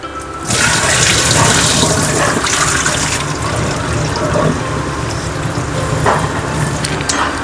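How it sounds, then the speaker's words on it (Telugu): Rice for mutton biryani is rinsed under running water, with a loud, continuous splashing and sloshing close by and no speech. "ఇప్పుడు బాగా బియ్యం కడుక్కోవాలి."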